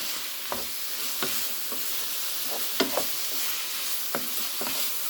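Biryani mix stirred into frying ingredients in a pot: a continuous sizzle with scattered scrapes and taps of the spoon against the pot, close and moderately loud.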